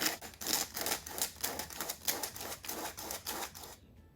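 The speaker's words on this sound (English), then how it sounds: "Or you can whisk them." Flour, baking powder, baking soda and salt being whisked together in a bowl, a quick run of rhythmic, close scratchy strokes that repeat steadily for a few seconds before stopping abruptly.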